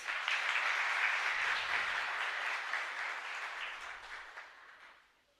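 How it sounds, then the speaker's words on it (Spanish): A congregation gives a strong round of applause in a Catholic chapel during Mass, a soft, even patter of many hands that rolls on steadily and then fades out. "les damos un fuerte aplauso a todos"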